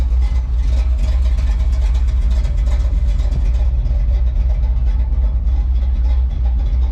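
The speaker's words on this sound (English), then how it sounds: "God, I love the way this truck sounds." Old truck with an exhaust leak at the header, idling loud and close with a steady low rumble and rapid, continuous ticking pops riding over it for the whole clip, no voices.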